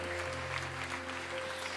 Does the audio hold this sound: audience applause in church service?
yes